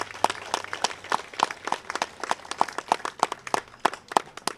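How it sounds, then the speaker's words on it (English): Applause for honorees at an outdoor honoring ceremony, a sparse crowd clapping in quick uneven bursts, fairly close and clear with no talk over it. "let's give up a round of applause again for our honorees"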